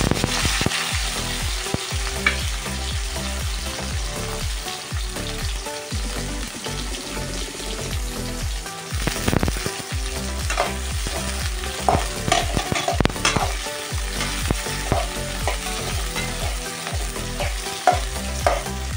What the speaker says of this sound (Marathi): त्यानंतर आपण कांदे आणि हिरव्या मिरची ऍड करू